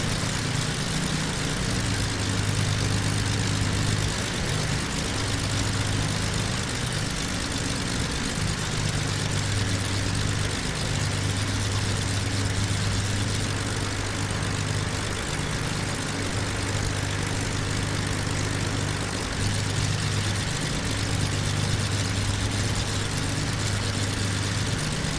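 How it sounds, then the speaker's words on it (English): Light aircraft engine throttled back for descent on final approach over New Zealand, a steady droning hum with a low propeller tone holding evenly and loud throughout, no voices. "throttle back for the descent."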